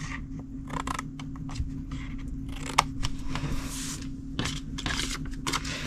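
Scissors cutting cardstock along score lines while making a Christmas holly treat box: a run of short, crisp snipping crunches in an uneven rhythm, close and fairly quiet over a steady low hum, with no talk.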